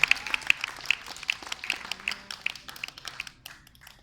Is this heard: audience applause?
yes